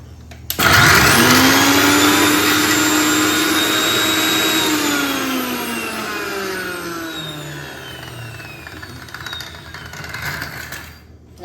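A kitchen mixer grinder runs loud and close, grinding chutney ingredients in a steady whirring roar that winds down and gradually fades toward the end.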